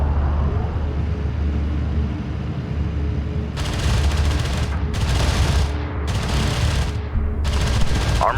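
Battle in Homeworld: Deserts of Kharak, with a low rumbling engine bed, then about four long bursts of rapid gunfire crackling in quick succession over the last five seconds.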